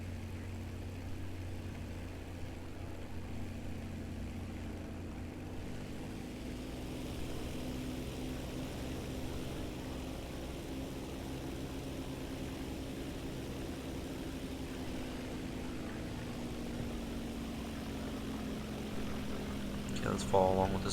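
A propeller plane engine drones steadily in War Thunder, the Panther A and Ju-87 B-2 gameplay, a continuous low hum that swells slightly toward the end, heard under quiet background sounds.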